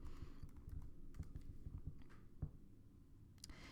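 Keystrokes on a computer keyboard as a username and password are entered, a quick irregular patter of clicks close by with a brief pause before a final few taps.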